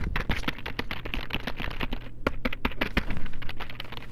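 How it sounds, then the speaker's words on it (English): Rapid clattering keystrokes on a computer keyboard mixed with sharp mouse clicks, close and crisp in an uneven, busy rhythm with no voices. "here's the keyboard and mouse sounds"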